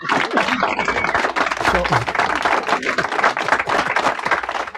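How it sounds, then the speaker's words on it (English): A small studio audience claps and cheers on a casual talk show, with a burst of mixed clapping and chuckling layered under lively voices talking over it throughout. "Give them a round of applause."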